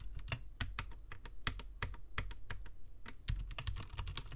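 A Royal Kludge RK61 mechanical keyboard is typed on in a steady stream of quick clacky keystrokes. The clicks come in irregular bursts, close up and fairly quiet, with no talking.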